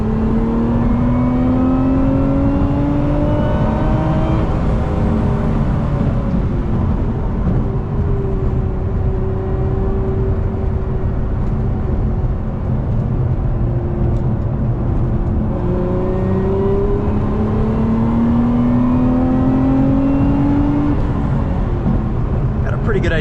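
A 2025 Lotus Emira V6 sports car drives along, its engine droning loud and steady inside the cabin with slowly rising and falling tones as the revs shift, over constant road and wind roar.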